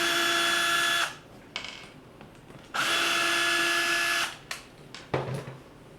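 A power drill backs screws out in two sustained whirring bursts, each about a second and a half long, with quiet handling clicks and clatter between and after them, close and loud.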